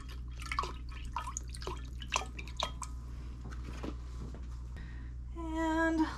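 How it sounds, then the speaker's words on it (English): Broth drips steadily from a leaking measuring cup in a kitchen, a string of small, close, irregular plops and trickles that ends in a brief running pour. "And my broth is leaking."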